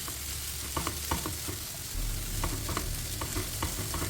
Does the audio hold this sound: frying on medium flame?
yes